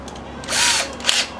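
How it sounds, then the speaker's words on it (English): A power drill with a stubby bit bores into an amp chassis, giving two short, close whining bursts of cutting, the second ending in a sharp bite. "I'll get these holes started since I got the drill in my hand."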